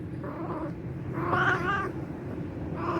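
Cats caterwauling while mating, loud drawn-out yowls that rise and fall in overlapping waves, with one strong wail in the middle and another starting at the end over low background rumble.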